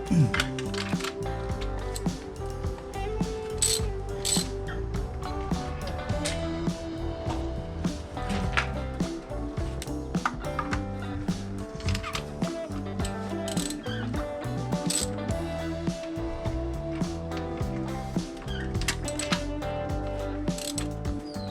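A ratchet wrench clicks steadily and continuously while working spark plugs out of a Nissan Frontier 4.0 V6, a dense, close metallic pawl rattle with no speech.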